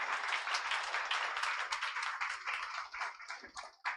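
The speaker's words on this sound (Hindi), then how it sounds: "एक बार जोर से ताली बजा दीजिए।" Congregation at a church sermon clapping hard together, a dense continuous burst of many hands that stays loud and then thins toward the end.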